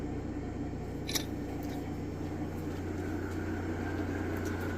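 A homemade 36-inch wind turbine alternator turns at 300 RPM on a test rig, giving a faint, steady low hum and whine with a brief click partway through.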